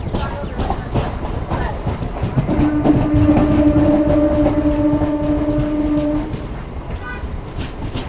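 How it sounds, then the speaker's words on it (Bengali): A Barddhaman–Rampurhat MEMU local passenger train with old wooden coaches rolls along with a steady rumble. Its horn sounds a sustained tone for about four seconds midway, then the running noise carries on. "মানে এই লোকাল ট্রেনের কোচগুলো দেখাই"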